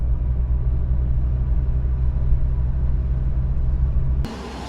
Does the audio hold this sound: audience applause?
no